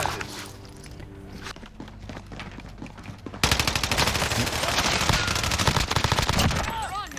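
Rapid automatic MP5 fire in Call of Duty: Warzone, first some footsteps and scattered distant shots, then a loud, close, sustained burst of fast regular gunfire over the second half.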